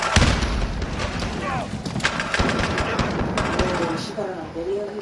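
Call of Duty gunfire rattles steadily through the whole stretch, with booming shots and bursts layered together while voices talk over the game action.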